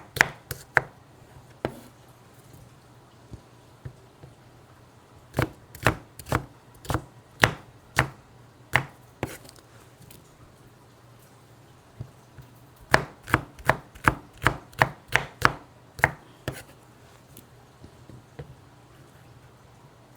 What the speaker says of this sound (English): I think we're going to be done chopping before the water's ready.